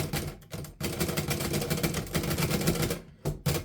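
A 1940s Remington or Underwood Noiseless 77 or 7 vintage typewriter being typed on, rapid soft muffled keystrokes in a steady run with brief pauses, close up and without talk.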